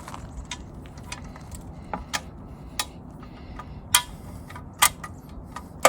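LikeBike CityFun folding eBike frame being folded back over: sparse metallic clicks, clacks and rattles at irregular intervals, close and fairly quiet, with a few sharper snaps.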